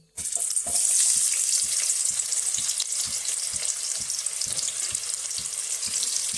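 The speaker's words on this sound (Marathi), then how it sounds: "कांदा चांगला फ्राय करून घेऊ आपण" Lengthwise-sliced onion fries in hot oil in a cooking pot, a continuous bright sizzle with a run of sharp spatters and pops after the onion goes in, no voices.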